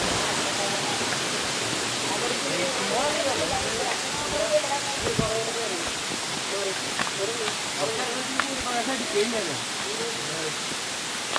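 Continuous rushing of a waterfall in Chimmony Wildlife Sanctuary roars in the background while people talk over it, with a few faint clicks and knocks.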